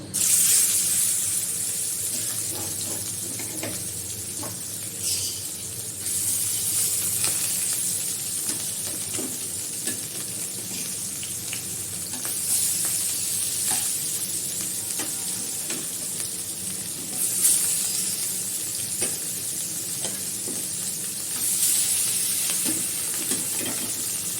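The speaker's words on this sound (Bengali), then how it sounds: "ভেজে নিই ভালো করে কড়া করে" Rohu fish pieces fry in a hot wok of oil with a steady, dense sizzle and hiss. The sound continues without pause, with occasional crackling bursts and stirring swells. No one speaks.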